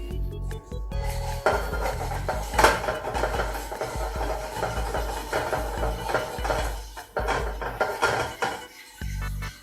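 A utensil scrapes and clinks against a metal pan while stirring sugar over medium heat, an irregular rhythm, close up, with occasional louder knocks and no talking.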